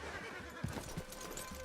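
A horse in the Red Dead Redemption 2 video game gives a faint, short neigh over soft hoof clops and quiet woodland background.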